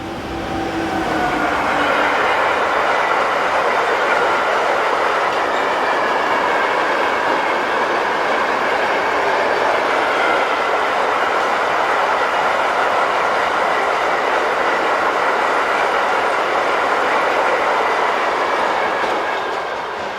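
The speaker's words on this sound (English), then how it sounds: "Here 1116182 heads east with new vans." Locomotive 1116 182 hauling new freight vans rolls past steadily for a long stretch, wheels clattering and a broad rushing rumble, with a faint metallic squeal early on.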